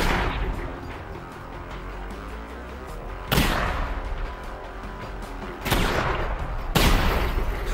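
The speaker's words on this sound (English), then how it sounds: "Shotgun versus shotgun." Shotgun blasts in the video game Half-Life: Alyx come as three heavy booming shots spaced a few seconds apart, loud and close over a rumbling in-game background.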